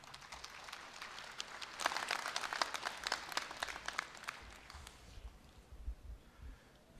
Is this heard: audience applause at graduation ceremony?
yes